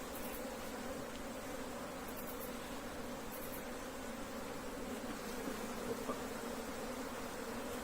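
Honey bees buzzing around an opened hive during a colony split in an apiary, a dense steady drone with no pauses that sounds close but soft.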